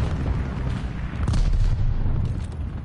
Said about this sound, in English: They're sending mortar shells.